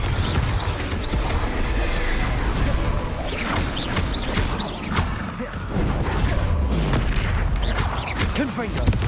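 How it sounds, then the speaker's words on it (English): Explosive spell blasts from the Confringo fire spell in Hogwarts Legacy form a dense, continuous barrage of booms and crashes with a voice talking over the combat. "Confringo! Bombarda!"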